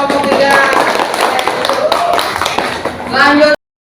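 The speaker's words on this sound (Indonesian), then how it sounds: "beri tepuk tangan buat kelompok 3" A class of students claps for a group in a classroom, dense continuous applause mixed with voices and chatter that stops abruptly at the end.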